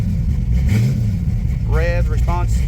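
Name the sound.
Gen4 aluminum 5.3 LS engine with carburetor revving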